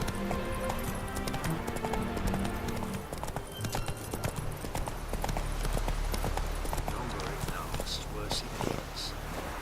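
Roach the horse's hooves clop in a steady galloping rhythm in The Witcher 3, close and clear, while someone speaks over the hoofbeats for part of the run.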